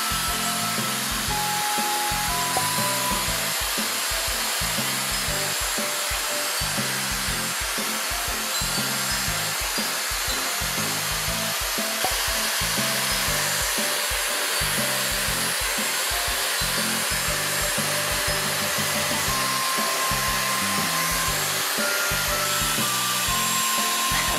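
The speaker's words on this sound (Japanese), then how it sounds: "今回このね、ダイソンのスーパーソニックヘアドライヤーをね、使ってみたんですけど" A Dyson Supersonic hair dryer fitted with its smoothing nozzle attachment blows steadily and loudly, a constant close whoosh of air that continues without a break, with no voices.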